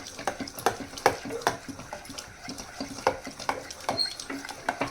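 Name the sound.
stirring sarso saag with maize flour in a pot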